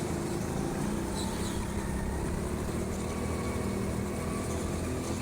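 Go-karts on an indoor track at TeamSport Sheffield, a steady motor drone with a few faint higher whines passing over it, constant and moderately distant throughout.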